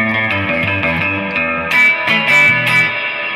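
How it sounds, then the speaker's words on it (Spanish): A Squier 40th Anniversary Jazzmaster electric guitar played through a Fender Twin amp with reverb turned all the way up, ringing surf-style notes and chords with a long wet tail, loud and steady with no voice. "si la conecto como lo tengo conectada a este ampli de aquí, que es un Fender de Twin, y le pongo la reverb a tope"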